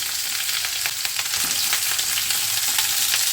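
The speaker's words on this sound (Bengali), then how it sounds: "এবারে সবজিগুলো আস্তে আস্তে ছেড়ে দিচ্ছি। ডাঁটাটাও দিয়ে দিই," Vegetables and Malabar spinach stems fry in a pan for a Bengali pui data sabzi, giving a dense, loud, close hiss of sizzling oil with faint stirring clicks throughout.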